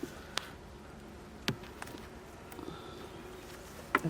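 Honey bees drone around an open hive during a July inspection, a low steady buzz punctuated by a few sharp knocks and clicks of frames, no talking.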